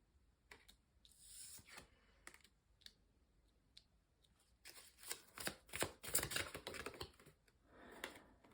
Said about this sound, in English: Just shuffle on camera a bit more.